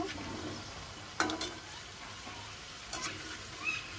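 Chicken samosas deep frying in hot oil make a faint, steady bubbling hiss close by, broken by a few brief sharp crackles.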